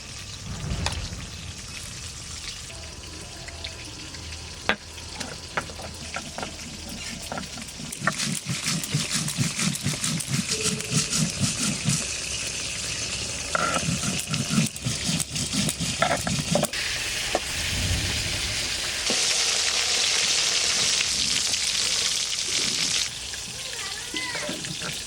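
A large sea fish (para fish) fries in hot oil in a pan, giving a steady loud sizzle and bubbling that runs throughout, with stirring scrapes and some outdoor noise mixed in.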